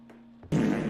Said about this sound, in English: They did a fart redeem on Twitch.